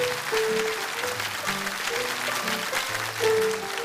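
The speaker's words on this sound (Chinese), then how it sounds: "掌声响起的时候稍微迟疑了一下" An audience claps at a televised lecture-show studio event, a steady patter of many hands under sustained musical tones that continues throughout.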